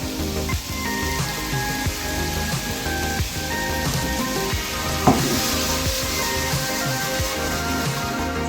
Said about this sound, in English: The pan is sizzling.